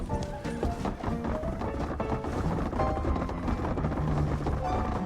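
A horse neighs and whinnies in a Western open-world game set in the city of Saint Denis, with hooves clip-clopping beneath it, all steady and fairly loud over a dense layer of game music and ambience.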